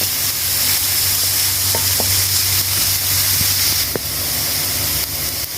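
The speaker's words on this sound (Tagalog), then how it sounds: "So, lutuin lang hanggang yung onion is translucent." Onion and chopped chili sauté in a pan until translucent, a loud continuous sizzle and hiss close up with a few faint ticks of a utensil, steady throughout and with no talking.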